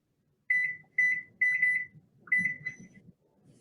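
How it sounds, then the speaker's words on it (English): A kitchen timer beeps while hamburger pie is being made: four bursts of quick, high electronic beeps with short gaps between them, close and clear over faint kitchen clatter. "I'm setting this timer before I forget."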